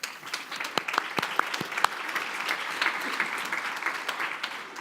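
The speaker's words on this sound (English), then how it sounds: "You say the name, applause." Audience applause at a keynote address, steady clapping from a large crowd sustained throughout with no talk over it.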